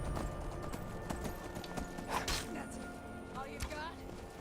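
Horse hooves clip-clopping in the video game Skyrim, with a steady run of close, crisp hoofbeats, a brief whinny, and faint game sounds underneath.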